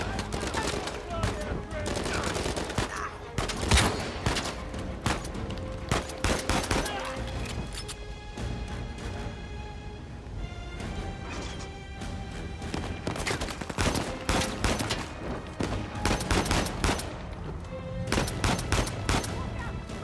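Gunfire in the action game Uncharted 4, dense bursts of rapid shots and heavy impacts running throughout under game music and effects, with a voice talking over parts of it.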